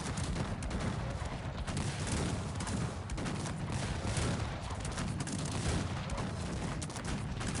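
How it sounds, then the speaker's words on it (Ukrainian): Cannon and howitzer volley in the Cossacks 3 strategy game, a dense continuous barrage of overlapping booms and gunfire crackle that keeps up at full loudness for several seconds, with no voices. "Залп гармат, залп гаубиць."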